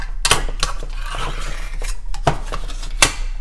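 A container of cornstarch is pried open in a home kitchen while making no-churn vanilla ice cream, giving a few sharp plastic clicks and scraping snaps spread across a few seconds, close up and clear.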